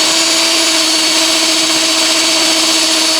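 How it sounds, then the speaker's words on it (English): A loud, steady whine of a drill bit and tap combo boring through metal, constant and close, with no voices. "it's starting to drill"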